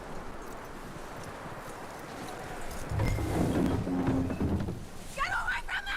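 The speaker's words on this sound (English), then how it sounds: "That looks like a decent horse. You should keep him." Horse hooves clopping in Red Dead Redemption 2, a steady close clip-clop that grows louder partway through, joined by thuds and other game sounds.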